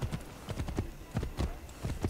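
Horse hooves clip-clop in the video game Assassin's Creed III, a quick irregular series of soft thuds at a walking pace, faint and alone.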